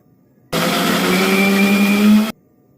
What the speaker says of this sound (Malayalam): ആവശ്യത്തിന് ഉപ്പിട്ടിട്ട് മിക്സിയിലൊന്ന് അരച്ചെടുക്കണം